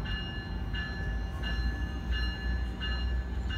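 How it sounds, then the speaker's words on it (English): A train pulls out of a station amid a low rumble and rhythmic rolling clatter, with a repeating high-pitched tone pulsing at regular intervals over the steady mechanical drone. "Train's leaving."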